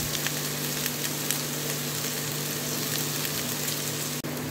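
Onions frying in a pan for hariyali dahi mutton, a steady, dense sizzle with a low electrical hum beneath and a brief dropout near the end.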